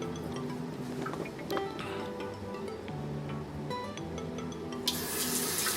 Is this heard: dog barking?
no